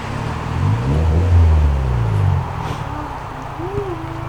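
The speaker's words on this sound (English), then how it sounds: "Oh, I hear an Mx-5." A Mazda MX-5 approaches, its low engine rumble swelling to a peak and then easing off, heard close over a rustling outdoor background.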